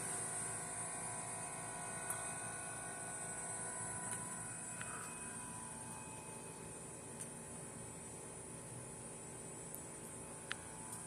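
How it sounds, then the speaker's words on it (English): A Hampton Bay Farmington ceiling fan running on its low setting gives a steady, even whir and hiss, with an air conditioner running alongside. A few faint ticks come through, and nobody speaks. "turn the fan on. We'll set up on low."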